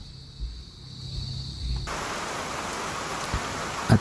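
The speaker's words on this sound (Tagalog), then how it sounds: "bumuhos na ang malakas na ulan" Heavy rain pours down at a camping site in a mahogany forest, a dense hissing wash that starts suddenly partway through and continues loudly, with a few thumps of drops hitting nearby surfaces.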